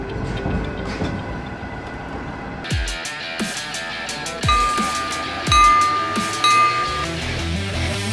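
The Salamatty Kazakhstan medical train gets underway with scattered metallic clanks and clinks, rumbling wagons, and a steady high tone ringing out partway through.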